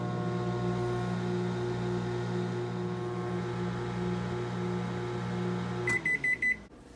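A microwave oven hums steadily with a loud, even drone for several seconds, then stops and gives a short burst of clear electronic beeps at the end, with no talking.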